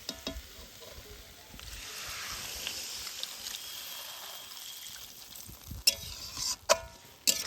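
Potatoes and apple sautéing together in a clay handi for biriyani, a soft steady sizzle with occasional scraping stirs and a few sharper clanks near the end, no talking.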